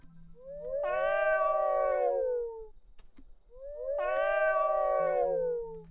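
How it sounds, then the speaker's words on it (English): A cat in the video game Yume 2kki gives two long, drawn-out meows, each loud and clear against a quiet background with a faint hum, separated by a brief pause. "Tis a cat."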